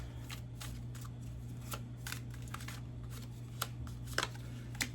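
Tarot cards being shuffled by hand, a series of soft riffling and slapping bursts at irregular intervals over a steady low hum, with a few sharper taps near the end.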